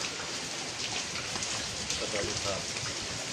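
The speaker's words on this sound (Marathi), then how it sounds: "अशा जोरदार पावसात व हवेमध्ये आमची टीम निघण्यासाठी शेवटी तयार झालेली आहे." Heavy rain with strong wind on a monsoon morning before the Kalsubai peak trek in Maharashtra, a dense continuous hiss of downpour close by, with faint voices mixed underneath.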